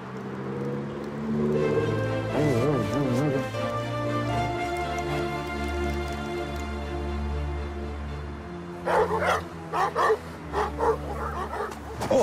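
A dog whimpers and yips in wavering high tones, then barks several times in short, sharp bursts near the end.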